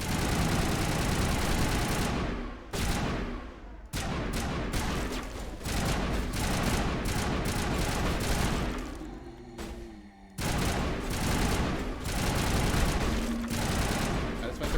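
Rapid automatic gunfire rattles in long dense bursts from a sci-fi shooter, Mass Effect, with a couple of short pauses and a low engine-like hum underneath, loud and constant throughout.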